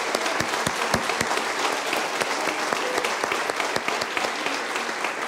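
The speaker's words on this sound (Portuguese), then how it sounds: "Se é para Jesus, dê a melhor salva de palmas." Congregation applause at a church service, a steady dense clapping from a crowd with sharp individual claps standing out, continuous throughout at moderate level.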